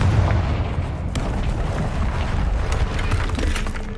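A Confringo blasting spell explodes in Hogwarts Legacy, giving a loud, close burst of booming blasts with sharp cracks and a rumbling tail that continues throughout, with no voices.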